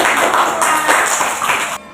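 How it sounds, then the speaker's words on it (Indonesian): A Grade 5 class claps hands together in a loud, busy burst of overlapping claps that cuts off abruptly near the end. "Oke, tepuk tangan."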